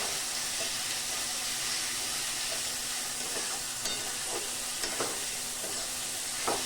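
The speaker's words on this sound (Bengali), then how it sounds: "এই মশলাটাকে খুব ভালো করে কষিয়ে নেব" Masala of garlic and ginger paste sautéed in a pan, a steady close sizzle with occasional stirring scrapes and small pops throughout, no voices.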